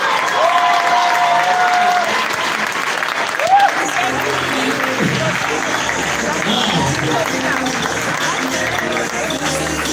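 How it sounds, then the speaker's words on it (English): Loud, sustained applause from a crowd at a Saturday recognition event in Zambia fills the whole stretch, dense clapping with a few faint whoops rising above it. "Let's give him a big round of applause."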